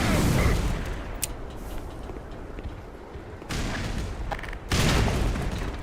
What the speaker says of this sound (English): little grenade to spice it up